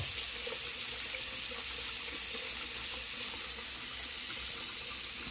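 Lavatory faucet running after the angle stops under the sink are opened, giving a steady, even rush of water that continues without pause, close by and with no voices.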